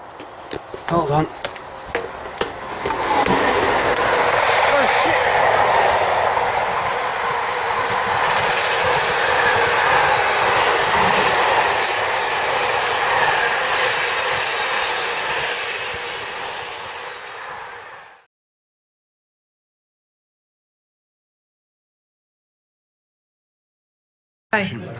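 A freight train rolls past on rail tracks on a road trip, a broad rumbling roar that swells within seconds, holds steady and loud for about fifteen seconds, then cuts off into silence.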